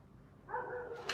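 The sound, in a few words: dog barking outside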